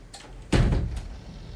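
A door opening or closing in the mobile game PUBG on an Infinix HOT 50i phone: one dull thud, fairly loud, with a short rumbling tail and a faint click a moment later.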